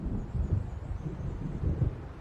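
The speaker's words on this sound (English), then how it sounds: "It seems there's a storm coming." Low rumbling thunder of an approaching storm in the video game Alan Wake Remastered, set near the lake waves by Diver's Isle, a deep continuous roll with soft swells and no voices.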